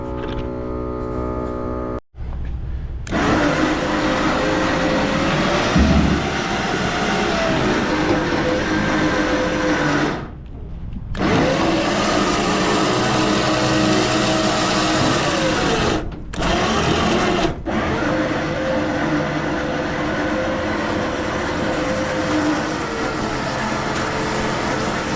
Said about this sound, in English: Had to get the sawzall out, cut down these signposts.